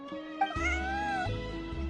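A cat meows once in Genshin Impact, a short rising-falling meow heard close and clear over soft background music.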